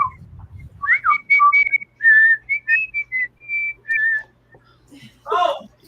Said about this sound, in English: I've got Ollie trained to whistle the He-Man theme song.